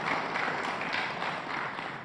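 An audience at a PDI Perjuangan and PPP party gathering applauds the party chairwoman with steady, sustained clapping. The sound is moderately distant, even and unbroken for about two seconds.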